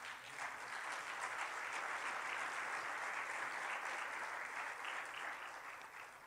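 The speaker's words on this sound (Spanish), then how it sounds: "¿Podemos darle un aplauso al Rey?" A church congregation applauds at a sermon, a steady wash of many hands clapping that swells quickly, holds evenly for several seconds and eases slightly at the end, with no voices over it.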